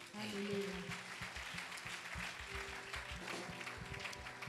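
A church congregation claps and cheers to acclaim the Lord during a Sunday sermon, a dense, sustained wash of applause from a crowd with rapid overlapping claps throughout, steady and moderately loud, with voices mixed in.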